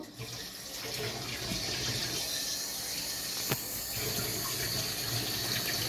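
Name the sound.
water poured into mutton keema pan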